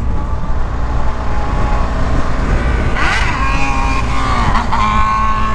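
A Honda Transalp motorcycle riding at 5:37 in the morning produces a loud, continuous engine roar up close, with a rising, sweeping whine around the middle as the rider accelerates through a gear.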